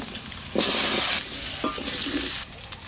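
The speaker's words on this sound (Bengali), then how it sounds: "কড়াইতে একটু তেল আছে, আমি ওই তেলে আলু কটা ভেজে নেবো" Potatoes fry in a little oil left in a wok after fish was fried for a village meal, a loud sizzle that swells in bursts as they are stirred and scraped, close and alone.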